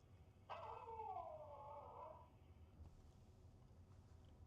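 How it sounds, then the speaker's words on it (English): A dog outdoors on a city street, heard at a distance, gives a single drawn-out howling whine lasting about two seconds, faint against traffic hum. "Oh my god, there's a dog barking."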